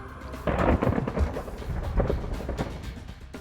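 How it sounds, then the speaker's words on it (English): Thunderstorm closing in over a lake: a deep rumble of thunder rolls in after a short pause, swelling loud and fading out, with rain patter and gusty noise beneath. "We had seen thunderheads and rain clouds off in the distance, and they were heading towards our way."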